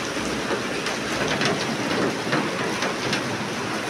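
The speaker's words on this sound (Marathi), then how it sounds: "जोरात तुफान पाऊस सुरू झाला." A heavy rainstorm pours down steadily, a dense, constant hiss of rain striking surfaces that fills the whole scene without a pause.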